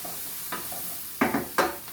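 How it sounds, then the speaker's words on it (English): Garlic fries in a pan with a soft steady sizzle, broken by a few short scraping stirs. "just fry up some garlic"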